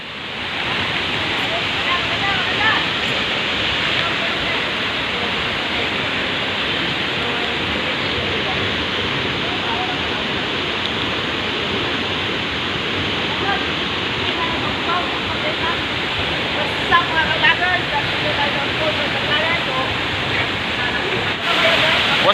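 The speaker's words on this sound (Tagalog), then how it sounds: "Dito na tayo sa Bugwak Falls." Bugwak Falls in Dangcagan, Bukidnon, roars as a steady, loud, broadband rush of falling water that continues without a break.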